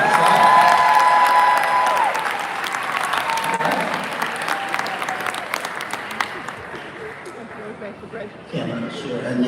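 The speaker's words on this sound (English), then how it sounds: "Let's have another round of applause for the Dancing Divas." An audience at a graduation celebration claps and cheers for a dance troupe, loud applause starting strong and thinning out, with a voice speaking over the fading clapping.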